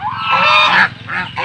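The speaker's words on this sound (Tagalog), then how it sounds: "Gansa yan eh." A goose honks loudly and close by on a farm, a strong nasal call sustained for about a second, then two shorter honks following after a brief dip.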